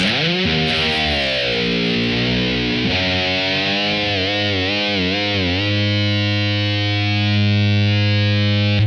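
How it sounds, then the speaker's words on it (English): Distorted electric guitar in a lesson, a loud sustained note bent downward by the whammy bar in four wavering dips, then settling into a held, buzzing tone. "at the end I'm just going to do 4 dips of the whammy bar"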